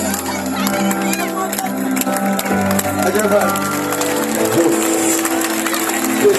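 Concert crowd at a show in Goudomp applauding and cheering, a dense continuous wash of clapping and voices with music tones sustained underneath.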